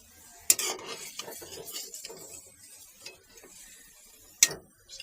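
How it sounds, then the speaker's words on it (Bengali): Fried mutton pieces being lifted out of a pan with a metal utensil: sharp scraping clinks at the start and near the end, with softer shuffling scrapes between, close and clear. "এখন আমি মাংসগুলোকে তুলে নিব"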